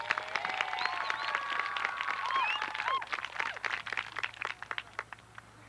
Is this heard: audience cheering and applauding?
yes